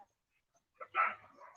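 A dog gives one short, fairly faint bark followed by a softer trailing yip, heard during an outdoor court ceremony with otherwise near silence around it.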